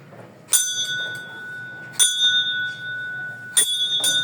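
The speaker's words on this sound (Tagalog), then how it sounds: "Doorbell tayo. Doorbell." A bright, bell-like doorbell chime rings three times at even intervals of about a second and a half. Each ring is clear and close, with a sustained tone between strikes and no talking.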